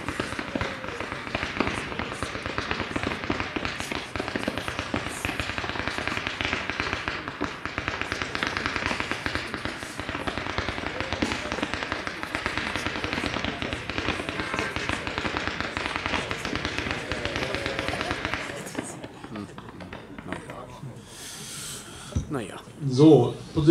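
Fireworks display of blue comets with tails cascading into a brocade waterfall, a dense, continuous crackling and popping barrage for about nineteen seconds before fading, with a few louder bursts near the end.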